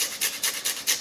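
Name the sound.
grating lime zest onto cheese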